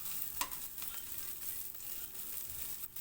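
Garlic sautés in a pan, a soft steady sizzle with occasional stirring scrapes, faint and fairly close, with no talking.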